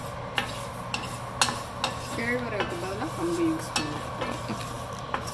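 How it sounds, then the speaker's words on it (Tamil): Pearl millet (kambu) is dry-roasted in a pan for a health mix powder, giving a close, steady rustling scrape of grains stirred around, punctuated by regular spatula knocks against the pan. "இப்போ அடுத்து வந்து கம்பு வந்து வறுக்க போகிறோம்."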